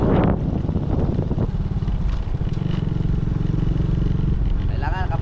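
A 250cc motorcycle engine labouring up a steep mountain road, a steady close drone under wind rumble, with a brief voice near the start and at the end.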